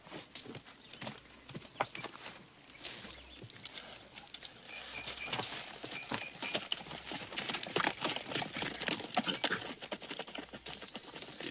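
Horse hooves clip-clop at a steady walking pace, faint and fairly distant, with scattered patters and a quiet outdoor background.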